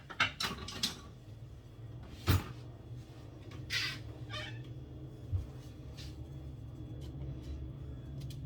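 A cat meows in a home kitchen during chicken cooking, with several short cries scattered among clicks and small mechanical knocks, fairly close and otherwise quiet.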